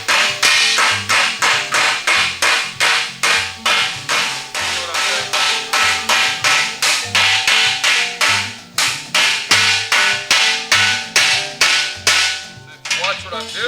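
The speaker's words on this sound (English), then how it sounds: "we're going to hammer and dolly this out until it gets back to where it's supposed to be" Sharp metallic hammer-and-dolly blows on Volkswagen Karmann Ghia floor pan sheet metal ring out in a fast, steady rhythm, dozens of close, loud strikes with brief pauses.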